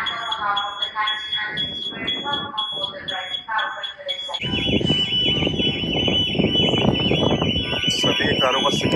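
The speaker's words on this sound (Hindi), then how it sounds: "सभी कारों का सिक्योरिटी अलार्म ऑन हो गया है।" Car security alarms going off on a ferry leaving Osborne, Isle of Wight, with a warbling electronic wail under voices that turns into a loud, steady rising and falling siren over heavy rumbling noise.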